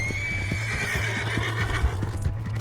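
A horse whinnies loudly in the Red Dead Redemption 2 video game, a long shrill neigh over rhythmic clip-clopping hooves close by, with the hoofbeats running steadily throughout.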